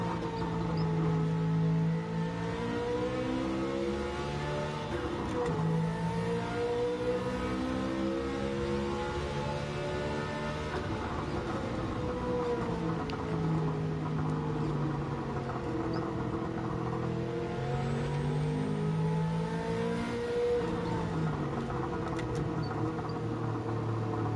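A Porsche engine in Gran Turismo 7, played in PSVR, revs continuously, its pitch rising and falling through gear changes and braking at a fairly low level throughout.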